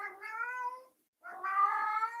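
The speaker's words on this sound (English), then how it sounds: "my cat will tell you, he likes to talk a lot" Pet cat meowing close by: two drawn-out, talkative meows separated by a short pause, the second one louder and longer.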